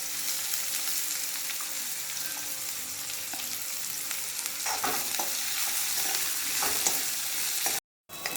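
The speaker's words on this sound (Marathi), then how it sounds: "आता यामध्ये थोडं हिंग घालून घेते पण आता हा बारीक चिरलेला कांदा घालून घेते यामध्ये" Finely chopped onion fries in hot oil with asafoetida for Vidarbha-style sambarwadi, giving a soft, even sizzle. Scattered spatula scrapes and crackles grow busier in the second half, and the sound breaks off briefly near the end.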